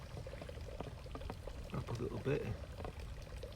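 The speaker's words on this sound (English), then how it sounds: "That was the first little drip of water." Water from a pond pump begins trickling and pouring into a bucket, a soft splashing flow that swells briefly, while someone talks over it.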